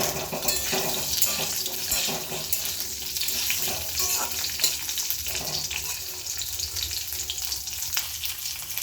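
Cut potatoes frying in hot oil with cumin and bay leaf in a pan, a loud steady sizzle and crackle throughout with occasional stirring scrapes, close and continuous with no speech.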